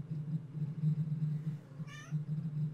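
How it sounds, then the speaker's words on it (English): A cat meows once in a short, chatty call, fairly close, over a steady low hum from a running clothes dryer in the room. "Cat's being really chatty right now."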